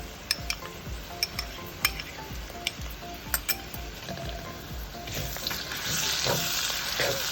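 Chana dal and curry leaves sizzle and fry in a pan while a spoon stirs, giving a steady crackle with sharp metallic clinks and scrapes against the pan.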